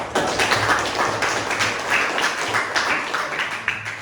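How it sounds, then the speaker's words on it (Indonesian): A classroom full of people applauds, dense continuous clapping at steady volume for several seconds. "kita beri tepuk tangan untuk kelompok 1."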